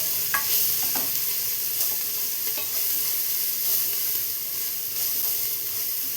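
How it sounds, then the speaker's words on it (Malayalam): Green gram curry base with turmeric and salt is stirred in a hot pan, a loud, continuous sizzle and hiss with faint spoon scrapes running through it, close and without voices. "എല്ലാം കൂടെ ഒന്ന് മിക്സ് ചെയ്ത് കൊടുക്കാം"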